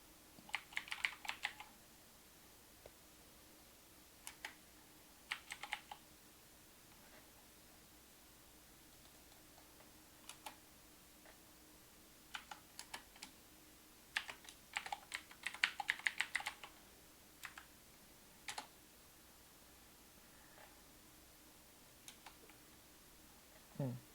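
Keystrokes on a computer keyboard come in scattered bursts and single taps, quiet and close, with pauses between clusters and a faint steady hum underneath.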